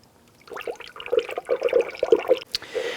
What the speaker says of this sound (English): And open up our expansion tank. And go ahead and start filling.